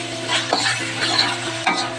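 Pork liver stir frying in a pan sizzles steadily, with a few scraping stirs of a utensil against the pan and no talking.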